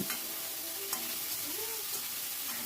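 Tomatoes and a pinch of salt frying with onions in a pan over high flame, giving a bright, steady sizzle with occasional stirring clicks and scrapes, up close and without talk.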